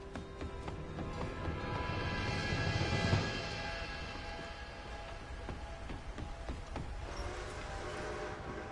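A steam train approaches in the Red Dead Redemption 2 video game, a low continuous rumble and clatter that swells toward the middle and then holds steady, faint under outdoor ambience with no speech.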